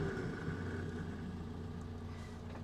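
Engine of a rare 1940s Canadian Morris Minor Lowlight idling steadily after a choke-and-pull-starter start, a low, even, slightly lumpy hum, fairly quiet and unbroken, with no voices.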